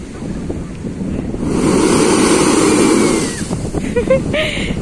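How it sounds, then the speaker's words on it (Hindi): Seawater surges up through holes in shoreline rocks in Spain, and a loud whooshing rush swells in the middle before fading into softer wave wash and wind. "यहाँ पे सुराख बने और इतनी ज्यादा आवाज आती है, और यहाँ से ना पानी ऊपर आता है समंदर का"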